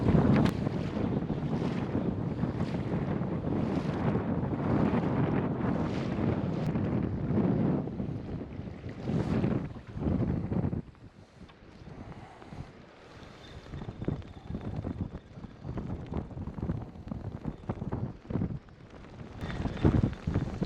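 Strong wind buffets the microphone in a steady roar, with gusty surges and a softer lull partway through, alone with no talking.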